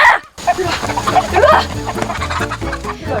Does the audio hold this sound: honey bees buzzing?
no